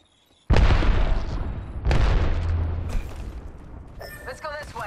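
A grenade explodes in Apex Legends with a loud, close boom, a second heavy blast follows about a second later, and the rumble decays into a brief voice and electronic chirps.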